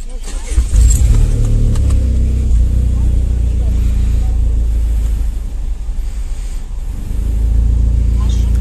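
A 2021 Lada Largus cargo taxi setting off, a steady low engine rumble and road noise filling the cabin, with a brief rattle of keys and someone talking over it.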